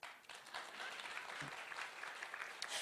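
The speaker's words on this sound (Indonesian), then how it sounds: "Tepuk tangan." Congregation applause at a church sermon, a dense, steady wash of many hands clapping at moderate level for about three seconds with no voice on top.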